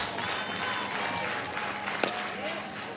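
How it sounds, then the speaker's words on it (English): Crowd cheering and applauding at an Alabama college softball game after an out, a steady wash of clapping and cheers from the stands with a sharp knock midway. "Alabama crowd cheering for the out"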